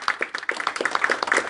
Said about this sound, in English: Please put your hands together for me.